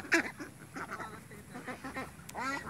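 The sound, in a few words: Pekin ducks on a duck farm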